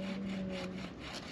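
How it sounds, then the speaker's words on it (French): A hand saw cuts through wood in a quick back-and-forth rasp, faint and close, with a steady low hum underneath and no talking. "t'es en train de scier du bois comme ça"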